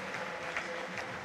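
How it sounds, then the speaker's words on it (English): A crowd applauds warmly in a football stadium during a wreath-laying tribute at the centre circle before a Hearts versus Dundee United match, heard as a soft, distant, continuous wash of clapping. "and to a warm round of applause"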